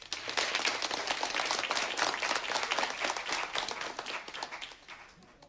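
A TV show studio audience applauds, a dense burst of clapping that swells quickly and then fades out over a few seconds.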